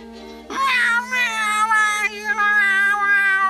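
A cartoon cat yowls and meows loudly and continuously for about three seconds, a drawn-out, wavering caterwaul with no talk over it.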